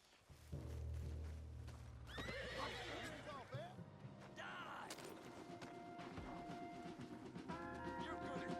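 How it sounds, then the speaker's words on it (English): A horse whinnies loudly with hooves clopping, set against voices and busy background noise throughout. "What's wrong with this horse?"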